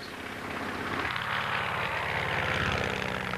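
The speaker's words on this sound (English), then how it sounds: "The engine sounds smoother than at the beginning of the flight." A propeller airplane engine drones steadily in flight, a continuous broadband hum with low harmonic tones that swells slightly after the first second and holds at an even level with no talk.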